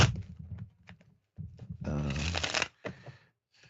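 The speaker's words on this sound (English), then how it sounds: "Not very interesting, is it, just listening to me shuffle cards?" A deck of playing cards being shuffled close up, with a few quick riffles and one longer dense riffle in the middle, while someone talks in between.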